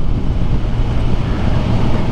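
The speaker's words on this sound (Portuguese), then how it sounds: "eu tô sentindo o vento batendo um pouco na, no, no pescoço para cima" Loud, continuous wind roar and low buffeting rush past the microphone while riding a 2022 Kawasaki Ninja 1000 SX motorcycle at speed, a dense rumble with no pauses.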